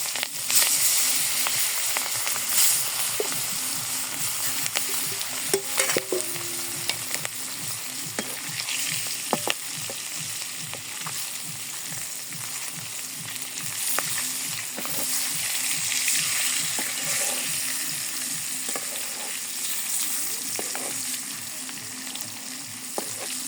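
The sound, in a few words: fish frying in hot oil in a kadai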